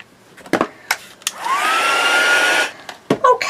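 Heat tool or dryer drying ink on a craft card: a loud, close whirring blast that rises and holds for about a second, framed by a few clicks and handling knocks.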